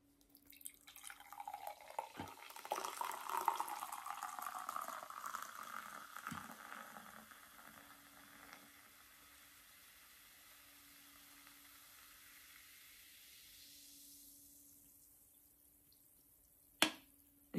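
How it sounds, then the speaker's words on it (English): Mountain Dew LiveWire orange soda is poured out, a fizzy hissing pour that swells loud and then settles into a long, faint carbonated crackle, ending with a couple of sharp clicks. "I'm going to pour it out and tell you what it looks like"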